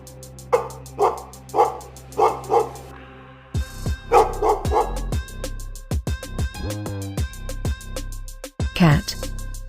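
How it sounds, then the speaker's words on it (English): A dog barks in repeated bursts, first a run of evenly spaced barks, then a quicker, louder string of barks and yips close by, with a sharp final burst at the end. "Dog."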